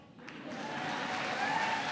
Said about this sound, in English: Yeah, that's worth applauding.